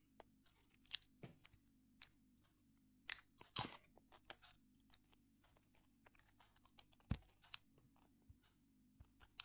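Popcorn being chewed close to the mic: scattered crisp crunches and bites in an irregular rhythm, a few sharper loud snaps among quieter munching over a faint low hum.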